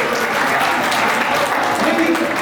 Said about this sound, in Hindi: तालियां तो हो जाएगी।